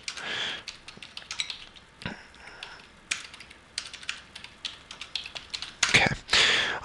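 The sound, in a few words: typing a chat message on a computer keyboard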